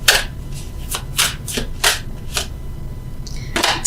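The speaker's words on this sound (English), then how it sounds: "Let's get those extra cards." Tarot cards being shuffled and handled, a series of crisp riffling bursts and soft slaps at irregular intervals, close and fairly loud with no talking.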